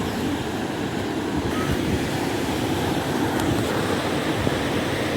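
Sea surf breaking on the shore at Jafrabad on the Gujarat coast, a steady, loud wash of waves with wind rumble on the microphone, continuous throughout and with no voices.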